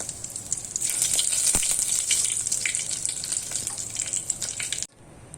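Red chillies and curry leaves sizzle steadily in hot oil for a sambar tempering, a bright continuous crackle with one sharp pop partway, cutting off abruptly near the end.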